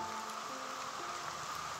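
Rain falling in a rural farm area, a steady dense hiss of drops with low rumbling underneath, constant throughout.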